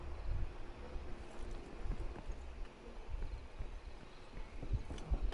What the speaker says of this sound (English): I just hate that the footsteps are so fucking loud